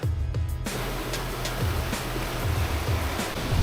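Atlantic waves wash against a rocky volcanic shore in Bermuda, a continuous roaring surf with gentle surges and no speech.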